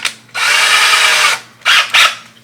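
A power drill fitted with a small bit whirs in one long, steady burst, then gives two short bursts after a pause, loud and close, with no talking.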